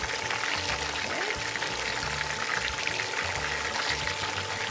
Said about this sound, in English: we can also fry about a minute or two on the other side